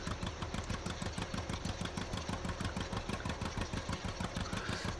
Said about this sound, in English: I think I picked the wrong tractor for a quick job